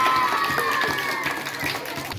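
Audience clapping at a school quiz competition on West Bengal Day, a steady spread of claps from a crowd lasting a couple of seconds and fading slightly at the end.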